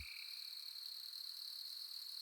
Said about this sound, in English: the jungle's hum and the chirping of crickets lulled him to sleep